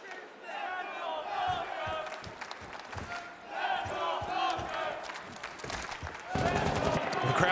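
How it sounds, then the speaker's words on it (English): A crowd at an esports arena cheers for Team Falcons during a Montreal Major match, a loud, sustained roar with shouts that swells and rises sharply near the end, under continuous commentary. "The crowd finding their voice for Falcons as they're once again in a position that they can look to take this opening map."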